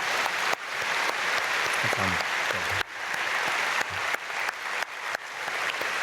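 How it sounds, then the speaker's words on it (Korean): A church congregation at a Myungsung Church dawn prayer service claps together in a loud, steady ripple of applause, with sharp bursts and a brief spoken thanks from the pastor. "우리 박수로 축복하겠습니다."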